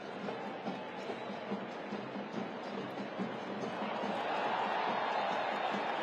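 A dense stadium crowd roars at a soccer match between St Louis City SC and Union Omaha, a continuous loud wash of voices that swells toward the end.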